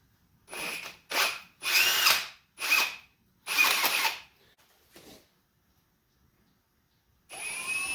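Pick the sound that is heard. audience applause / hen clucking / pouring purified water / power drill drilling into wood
power drill drilling into wood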